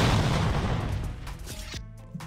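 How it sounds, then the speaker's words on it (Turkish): A bomb explodes in Roblox Super Hero Tycoon as a heavy, loud boom that rumbles and decays over a couple of seconds, followed by a few fainter thuds. "Bir daha attı bomba."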